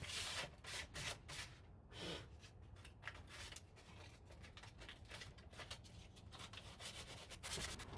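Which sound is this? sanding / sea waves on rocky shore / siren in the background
sanding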